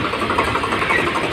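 A Swaraj 735 tractor engine, rebuilt after seizing during wheat harvesting, runs at a steady idle close by, a loud continuous diesel rumble with a fine knocking pulse.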